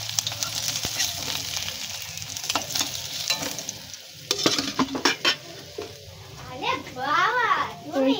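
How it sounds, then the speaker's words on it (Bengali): Fish deep-frying in hot oil in a wok, a steady broadband sizzle with stirring clatter, while children's voices chatter and play in the background. "এরকম করে সুন্দর করে মাছগুলোকে ভেজে নেব।"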